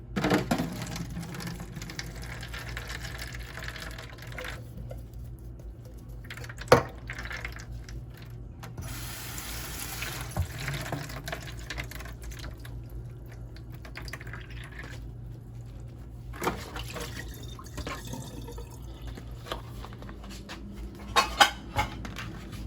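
Water is drained from a pot of boiled corn: a continuous watery pour and drip, with occasional clanks of the metal pot.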